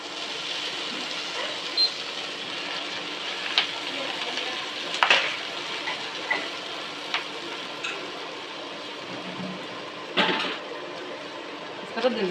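Gongura leaves frying in a spoonful of hot oil, a steady moderate sizzle with occasional scrapes and clinks of a spoon against the pan, while someone talks over it.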